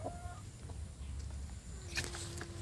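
Free-range village chickens clucking as they forage outdoors, a few soft scattered clucks over a low steady outdoor rumble, with a brighter burst of sound near the end.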